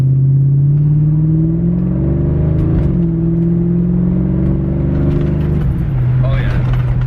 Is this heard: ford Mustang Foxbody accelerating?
yes